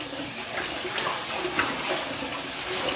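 Water splashes and trickles continuously at close range as a face is wetted for a shave, a soft steady wash of running and cupped water with small splashy peaks and no talking.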